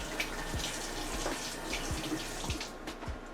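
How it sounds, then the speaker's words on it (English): Kitchen tap runs into a sink while hands are washed during meatloaf prep, a steady splashing water stream with soft irregular patters and splashes, close by and without speech. "Let me just wash my hands."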